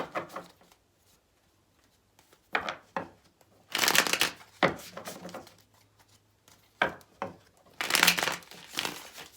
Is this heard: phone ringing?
no